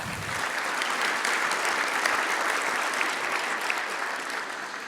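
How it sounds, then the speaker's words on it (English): Audience at an aviation forum plenary session applauds steadily, a dense, sustained clapping from a large crowd that fills the whole stretch at even loudness without letting up. "So let's round of applause for Noel."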